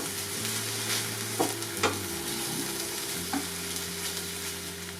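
Porchetta filling meat fries in a pan, a steady sizzle broken by a few sharp scraping stirs, close and alone with no voices.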